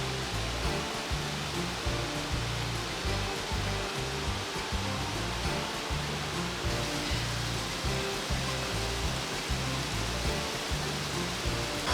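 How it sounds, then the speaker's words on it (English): Dunning Springs, a 200-foot spring-fed waterfall among limestone cliffs in Decorah, Iowa, gives a steady, loud broadband rush of falling water that continues without a break and with no voices. "a stunning 200-foot spring-fed waterfall surrounded by limestone cliffs and forested trails"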